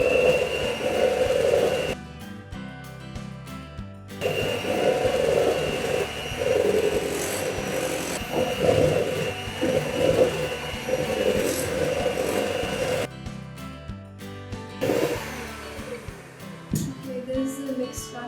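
An electric mixer beats cake batter with a steady, loud whirring drone that cuts out twice for a couple of seconds before resuming.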